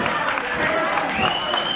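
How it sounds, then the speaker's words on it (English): Wrestling arena crowd roaring during a Kerry von Erich versus Ken Patera match, a dense sustained wall of cheering and yelling with some clapping, loud throughout and mixed under an excited commentator's voice. "The crowd comes to its feet yelling"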